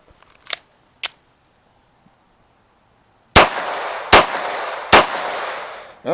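Cartridges snapped one by one into a Glock 19 magazine, a few sharp metallic clicks, two light ones followed by three louder close-up clacks with brief rustle between.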